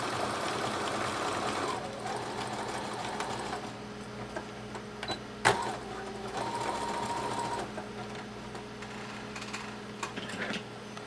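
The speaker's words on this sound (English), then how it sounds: "I go forward, I stop, and I put my machine in reverse and I lock that stitch in place." A sewing machine stitching a ruffle onto a sock runs forward, briefly reverses to lock the stitch, then carries on. Its steady close-up mechanical whir is broken by a sharp click near the middle.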